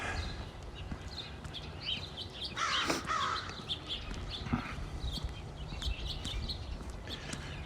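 Several crows caw at intervals outdoors on a city street in Regina, one loud burst nearby and others farther off, over a steady background of traffic and ambient noise.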